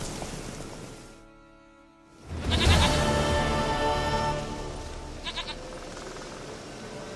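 Goat bleating in The Witcher 3, a loud layered bleat after a brief quiet gap, followed by a sustained wavering call and two short bleats near the end, with no talk.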